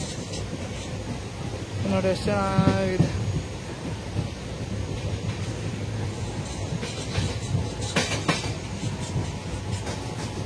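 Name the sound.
train departing Maddur railway station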